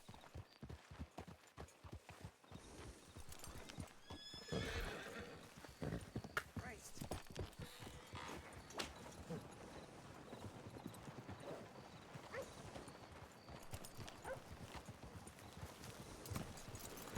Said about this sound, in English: up close and personal with the horse